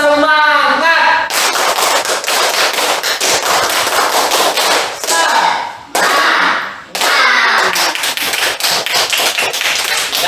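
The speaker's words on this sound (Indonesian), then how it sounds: "Ayo semuanya kita lakukan tepuk semangat." A classroom group of primary-school pupils claps together in a dense, loud, rhythmic spirit clap that runs for several seconds with one brief pause. It starts after a few spoken or sung tones.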